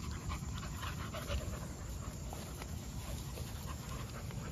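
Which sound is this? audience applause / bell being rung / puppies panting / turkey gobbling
puppies panting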